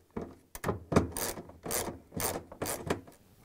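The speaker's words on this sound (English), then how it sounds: "Start it manually and then continue with the 10 millimeter socket wrench." A 10 mm socket wrench ratchets a bolt while a Samsung washer spider arm is assembled, giving several close, bursts of dry clicking and rubbing in an irregular rhythm with no voices.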